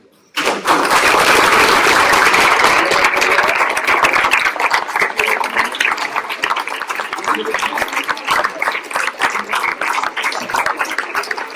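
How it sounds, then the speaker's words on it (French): Middle school students at a first aid training session break into sustained, loud applause for their trainers, a dense crowd clapping that starts abruptly and keeps going steadily throughout. "je voudrais remercier et vous demander d'applaudir vos formateurs"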